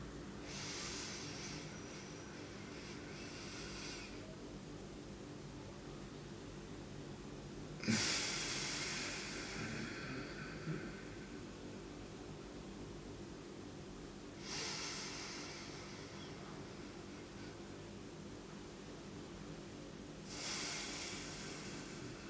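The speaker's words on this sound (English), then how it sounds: "you can inhale through your nose so that you can hear it" Slow, audible breaths drawn in through the nose come at spaced intervals, each a soft hissing rush, heard quietly and alone during a calm relaxation routine before public speaking.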